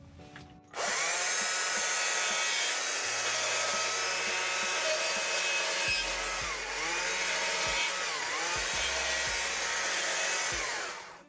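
A chainsaw carves a sunflower out of wood, running loud and steady close by with its whine rising and falling as the cut bites, and no talking over it.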